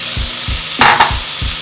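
Zucchini, carrots and red pepper fry in a pan with a constant loud sizzle, while regular low thumps recur and a couple of short bright scrapes of stirring cut through.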